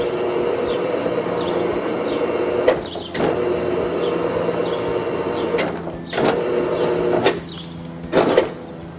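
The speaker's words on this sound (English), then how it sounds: "you can now work the screen down to where you want the lower limit to be" A motorized Panorama retractable screen lowers with a low, steady motor whir, and a few louder clunks and rattles punctuate it along the way.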